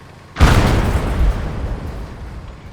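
A single loud tank gun shot in Gates of Hell, a sudden heavy boom that rolls off into a long, fading low rumble, alone with no voices.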